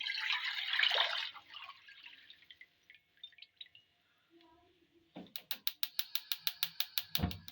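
Chicken stock (yakhni) splashes as it is poured into a pan in a home kitchen: a loud liquid gush at the start, then scattered drips, and later a rapid run of sharp, evenly spaced clicks, all close.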